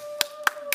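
A few separate hand claps in a debate audience greet a student speaker, three sharp distinct claps close by against a faint steady tone, with no voices.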